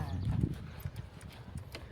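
A black horse walks with close, rhythmic hoof clip-clops on hard ground, while voices talk over it.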